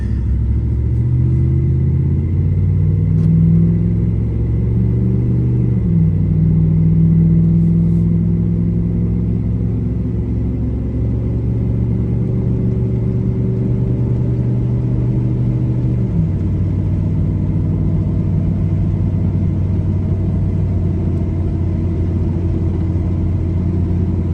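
A pickup truck engine rumbles steadily as it drives, with the pitch rising and dropping through gear shifts; close and loud, no voices.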